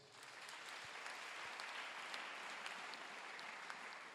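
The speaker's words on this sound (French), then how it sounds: "Acclamons Jésus." A church congregation applauds in a dense, continuous wash of clapping that holds evenly for about four seconds and sounds somewhat distant.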